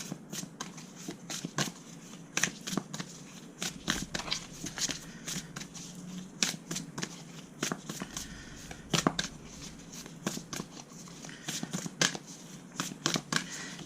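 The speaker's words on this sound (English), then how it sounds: "As I'm shuffling, they're getting a lot easier to shuffle." A deck of cards being shuffled repeatedly up close, in quick riffling bursts separated by short pauses, fairly quiet with no speech over it.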